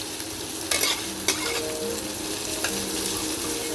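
Onion, garlic and green chilli frying in hot oil for a kolmi shak dish, a close continuous sizzle broken by a few sharp spatula scrapes and taps against the pan, with no talking.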